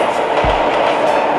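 A Tobu Nikko Line train passes a railroad crossing with a loud, steady rumble and rail clatter that fills the whole short stretch, heard up close with no talking.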